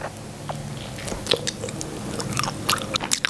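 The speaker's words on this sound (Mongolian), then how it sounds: "Одоо эндээс нь хадаж үзье." A giant cherry gummy candy being bitten and chewed, with close, squishy bites and sticky smacking at an uneven pace.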